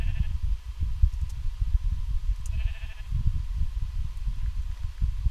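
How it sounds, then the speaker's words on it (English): Several bleats from Minecraft sheep, including a baby sheep, repeat over a constant low rumbling bed at moderate loudness, with no talking. "Look at the baby sheep."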